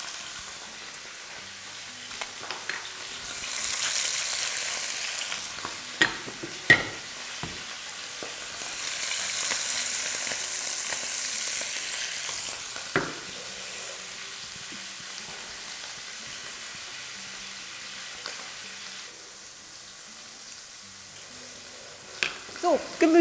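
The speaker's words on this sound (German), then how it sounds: "Dann packen wir mal die Filets da rein und lassen die mal ganz kurz anbraten von beiden Seiten." Fish fillets sizzle in hot fat in a pot, a steady close frying hiss that swells and fades over about twenty seconds with occasional clinks and taps of utensils.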